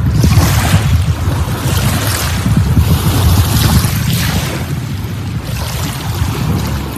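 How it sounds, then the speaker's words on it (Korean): Water of the Sea of Galilee at six in the morning, a steady rumble of waves and lapping water with wind blowing across the microphone, loud and continuous with no voices. "갈릴리 바다 호수입니다."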